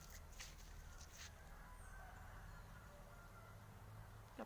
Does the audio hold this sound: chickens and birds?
yes